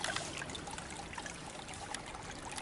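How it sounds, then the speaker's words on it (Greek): A small stream on a hiking trail in Mykonos, Greece, trickles and burbles steadily throughout, with close, continuous bright water splashing. "Ακούτε το νεράκι πως κάνει τσουρουτσούρου."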